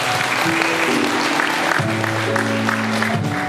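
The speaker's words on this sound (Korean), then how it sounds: "네 박수 부탁드리겠습니다" Wedding guests applaud during a musical wedding ceremony: dense, continuous clapping fills the room at steady loudness, with music playing underneath.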